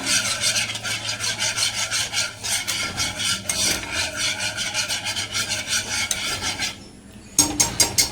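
Whisk beating milk in a pan while making palkova, a rapid rhythmic scraping and swishing that runs steadily, pauses briefly, then resumes, close and fairly loud with no talking.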